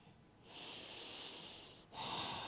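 Yoga breathing during cat-cow stretches: one long, close nasal exhale lasting over a second, then a short pause and the start of another breath, quiet and breathy with no talking.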